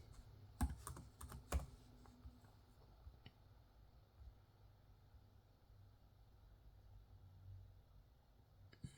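Soft, scattered key taps on an HP Spectre x360 16 laptop keyboard, a few quick clicks early on and then sparse faint taps over quiet room hiss.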